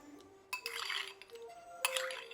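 A spoon clinks against a bowl while lemon juice is stirred into a carrot and beet salad, two soft, close bursts of light scraping and tapping, each about half a second to a second long, in a quiet room.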